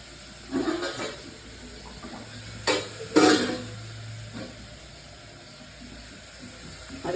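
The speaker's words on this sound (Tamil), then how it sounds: "அதுக்கு 400 கிராம் தண்ணி ஊற்றுறோம்." Water is poured into a cooking pot for vegetable biryani, giving faint, brief splashes and trickles over a quiet kitchen background.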